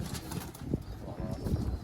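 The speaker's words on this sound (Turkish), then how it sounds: "Burada da malum dönekler var." Tumbler pigeons on a rooftop, with soft repeated cooing and a few wing flaps close by against steady outdoor background noise.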